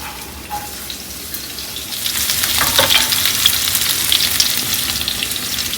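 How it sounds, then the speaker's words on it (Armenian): Onion sizzles in vegetable oil in a pan, a soft crackle at first that swells into a louder, denser frying hiss after a couple of seconds and stays steady, close by and with no talking. "Սոխը սկզբում կավելացնեմ։"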